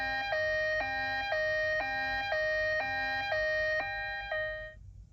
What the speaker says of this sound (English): Probably a siren of some sorts.